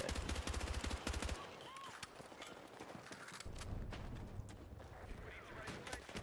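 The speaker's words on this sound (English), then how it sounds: "Ah, they're shooting me." Rapid gunfire in a video game, quick bursts of close shots at the start and again later, over a low ambient rumble, with a voice talking in between.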